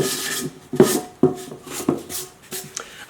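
A rough polishing fleece rubs over a painted tin can in a series of short scraping strokes, close up and fairly quiet, with brief pauses between passes.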